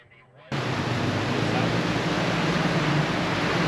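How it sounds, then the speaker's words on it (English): Heavy rain suddenly starts pouring at a Sebring pro-am competition, a dense, loud, continuous hiss that sets in abruptly after a quiet moment and holds steady. "Just started pouring."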